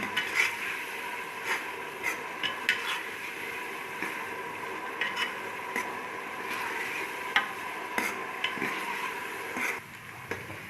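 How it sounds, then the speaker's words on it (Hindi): Onions frying in a pan for a mutton and potato curry, a steady low sizzle with scattered clicks and scrapes of stirring, heard alone with no talk. "5 मिनट तक हम प्याज को गोल्डन ब्राउन होने तक भूनेंगे"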